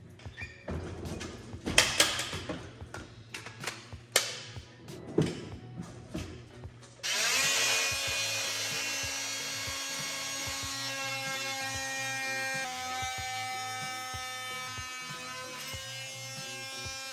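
Power drill driving 1¼-inch deck screws into wood: some knocks and handling first, then a steady whirring drill run holds close and loud for about ten seconds to the end.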